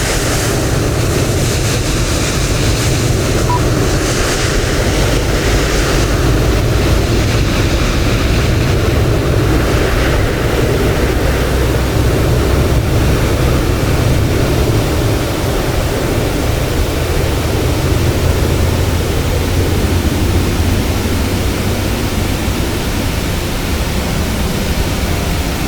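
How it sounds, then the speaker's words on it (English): An airliner jet engine starts in a flight simulator game, a loud, steady broadband roar and whoosh that holds for the whole stretch with no voices. "Right, that's our engine start."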